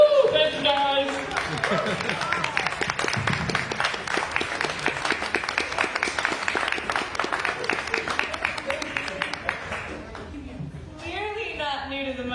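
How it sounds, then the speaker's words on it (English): An open mic audience bursts into loud, sustained applause and cheering with whoops from a small crowd, fading after about ten seconds into a speaker's voice. "I need you all to clap for this"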